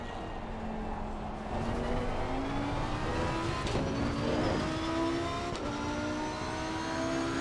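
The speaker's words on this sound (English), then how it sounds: "The engine sounds so good revving it up." Lamborghini race car in the racing game Assetto Corsa Competizione at Paul Ricard, engine revving loud and close with rising pitch through gear shifts and brief dips between them.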